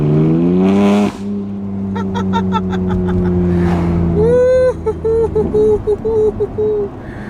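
The deep exhaust of a modified BMW M3 F81 Touring idles with a steady rumble, then rises in a sharp rev and ends in a string of quick throttle blips that pop and burble.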